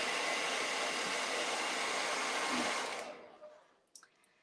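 A hair dryer drying paint on a snowman painting gives a steady, loud, breathy roar for about three seconds, then switches off, leaving a few faint handling clicks.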